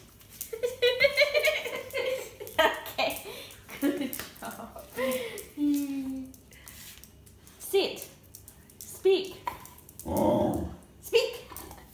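A whippet gives short growls, yips and barks in bursts, close by and mixed with a person's voice urging it on, with whimpery rising tones between the barks.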